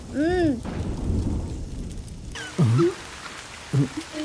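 Heavy rain hisses steadily through a dramatic film scene, with deep rumbling thunder and a few tonal cries or sound effects rising over the downpour.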